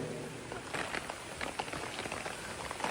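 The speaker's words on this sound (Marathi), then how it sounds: "आणि फुल पाऊस चालू आहे" Heavy monsoon rain falls steadily over flooded rice paddies in the Konkan during rice transplanting, a dense continuous patter with scattered louder drops close by.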